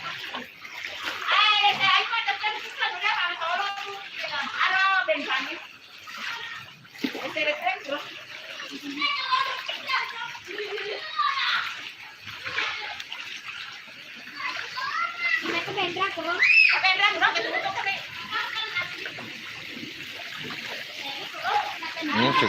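Swift floodwater rushes and splashes through a flooded settlement in Cabbenge, Soppeng Regency, a continuous churning wash that rises and falls, with several voices, including children's, talking and calling over it throughout.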